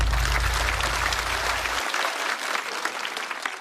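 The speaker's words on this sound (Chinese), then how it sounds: "掌声送给张俊。" Studio audience at a Chinese stand-up comedy show applauds steadily for a comedian, a dense wash of clapping that runs through the whole stretch, with a low hum underneath that cuts out partway.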